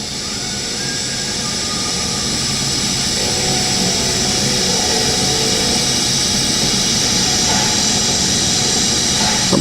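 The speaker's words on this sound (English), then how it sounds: "I'm welding probably with about 75, 78 amps and probably about half throttle on the pedal." TIG welding stainless steel or aluminum at about 75 to 78 amps with the pedal at half throttle, a continuous steady hiss and hum that swells slightly and holds for the whole stretch, close and loud with no talk.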